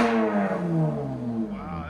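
A 2024 Chevy Camaro RS with a 3.6L V6, six-speed and Flowmaster Super 10 exhaust revs up and falls back, loud and near, with a voice over it.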